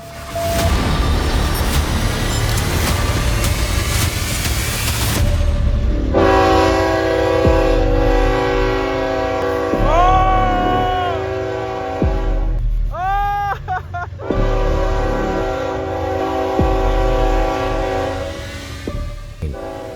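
A train rumbles past loudly and steadily, its horn blaring in long sustained blasts with a few shorter bent notes near the end.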